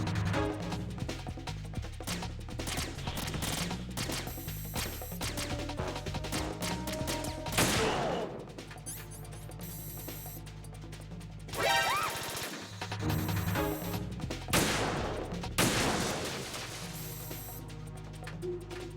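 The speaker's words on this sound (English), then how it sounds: "I'll provide support fire from here." Sniper support fire in Metal Gear Solid 2 crashes in as rapid bursts of gunshots over a busy game score, the shooting loud and near with brief lulls between volleys.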